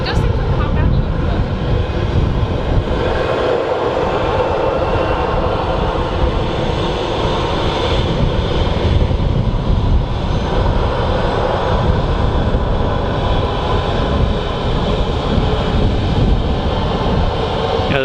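An Azerbaijan Airlines airliner arriving at Manchester Airport gives a steady, loud roar of engine and wind noise across the whole stretch, with no clear build or fade.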